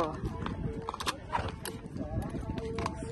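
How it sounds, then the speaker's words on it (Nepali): A horse being readied for a ride on a hill path in Ilam, Nepal, with soft hoof clops and shuffling close by, heard under people talking. "अब चाहिँ घोडा चढ्नु पर्यो साथीहरू घोडा हो"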